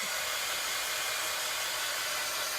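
A hair dryer blows steadily over a bunny welcome sign craft project, a close, even hiss of rushing air with no pauses.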